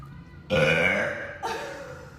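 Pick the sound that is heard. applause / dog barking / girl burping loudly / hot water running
girl burping loudly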